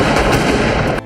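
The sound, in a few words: gunfire in Reservoir Dogs movie ending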